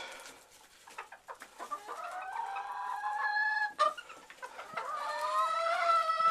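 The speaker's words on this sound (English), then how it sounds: "Gonna crow for us again, Leah?" A rooster crows loudly and close by in a coop in winter, two long drawn-out calls separated by a brief pause, with a few clucks and rustles before the first.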